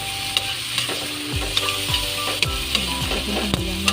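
Garlic and vegetables, water spinach with black beans, sautéed in a pan and stirred briskly, with loud continuous sizzling and rhythmic scraping strokes close up.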